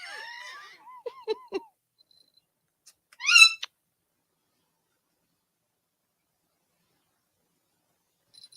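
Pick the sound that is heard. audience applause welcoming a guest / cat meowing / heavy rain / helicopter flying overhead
cat meowing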